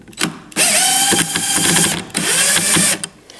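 A power drill tries to back an old screw out of a wooden rocking chair, giving two loud sustained whirring bursts with ratcheting clicks and a short buzz before them, close up with no speech.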